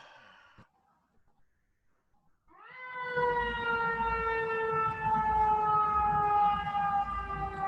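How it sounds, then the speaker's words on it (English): A fire truck or ambulance siren rises in after a quiet moment and holds loud and steady, its tone slowly sliding down, heard from a moderate distance. "a fire truck or an ambulance"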